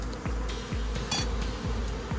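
Swarm of honeybees nesting inside a house roof, a continuous low droning buzz with small clicks and knocks on top, steady and close.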